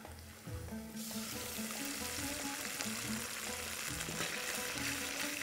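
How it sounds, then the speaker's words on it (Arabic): White sauce is poured into a hot pan for a minced-meat and bean fatteh, setting off a loud, steady sizzle with a bubbling, frying hiss that holds for several seconds. "ننزل بالوايت صوص"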